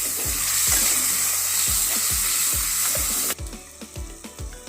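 Ground masala powder frying in oil in a pan for Hyderabadi chicken pickle, a loud dense hiss and sizzle with regular scraping stirs, the sizzle dropping away abruptly near the end to leave only the stirring knocks.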